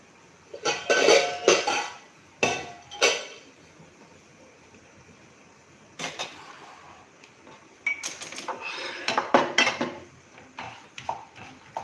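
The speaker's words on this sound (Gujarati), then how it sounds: "હવે આપણે બાજુના ગેસ ઉપર ઇડલી સ્ટેન્ડમાં આપણે ઢોકળા મૂકવાના છે." Dhokla being placed into a metal idli stand beside a gas stove, with clattering bursts of metal on metal in uneven clusters, close by, separated by quiet gaps.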